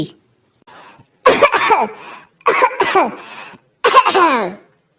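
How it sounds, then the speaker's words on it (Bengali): Three harsh, forceful coughs in separate bursts, close and loud, each a raspy explosive fit with short silences between, from a fish bone stuck in the throat. "তুই কাশছিস কেন বলতো"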